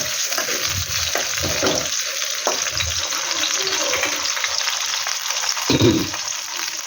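Tomatoes and fried green chillies sizzle steadily in a pan, a continuous close frying hiss with occasional soft stirring knocks.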